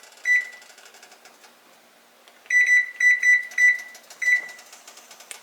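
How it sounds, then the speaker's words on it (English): A kitchen timer gives short electronic beeps at a stove while orzo and broccoli pasta cook, one single beep, then a quick run of paired chirps and a final beep, close and crisp over quiet kitchen background. "So I'll set the timer."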